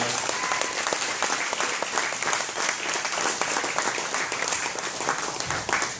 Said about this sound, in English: give her a round of applause for all the hard work she does